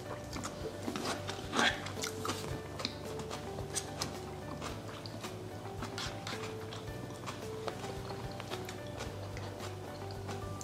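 Close, crisp crunching of raw pink onion eaten with herring, Lithuanian style, in a quiet room, with irregular bites and chewing spread over several seconds.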